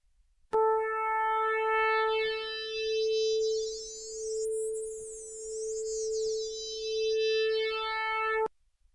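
A single sustained synth tone with a shimmering, swirling chorus effect, its bright overtones sweeping up and down before it cuts off abruptly.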